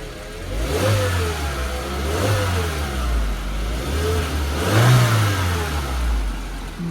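A 2-litre Mercedes A200 W169 engine turns over and catches, then runs with a few rising revs and dips, steady and fairly close, no voices.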